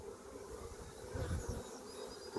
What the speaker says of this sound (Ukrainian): Тут бджола ось падає, посиділа, потім піднімається і знову залазить у вулик.